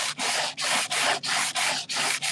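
Coarse 60-grit sandpaper scrubs back and forth over a patched wooden surface in steady, even strokes, roughly seven rasping passes, close and loud with short gaps between them.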